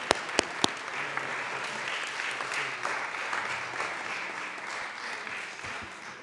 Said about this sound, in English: if we could clap for those fine folks